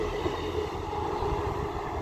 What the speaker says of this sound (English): Wait for the train to go by.